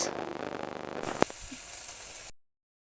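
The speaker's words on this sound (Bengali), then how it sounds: "দিয়ে দেবো ধুয়ে রাখা চিংড়ি মাছ" Washed shrimp dropped into a pan of garlic, onion and green chilli, giving a soft hiss of frying with a sharp clack partway through before it cuts to silence.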